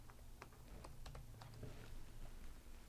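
Rapid typing on a computer keyboard, a steady run of crisp, close key clicks with uneven rhythm over a low background hum, no speech.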